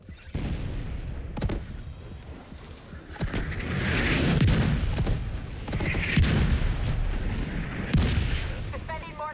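Mortar fire in The Division 2 lands as a heavy rolling barrage of booms and crackling blasts that swell and fade over several seconds, with a few sharp reports cutting through the rumble.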